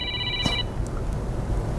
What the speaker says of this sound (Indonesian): Ada penelpon dulu, kita angkat dulu ya